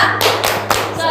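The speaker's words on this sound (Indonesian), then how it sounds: "Tepuk bangun datar." Hands clap a quick rhythmic pattern in a primary school math teaching session, a few sharp claps with softer taps between them, close and loud as part of a chant about flat shapes.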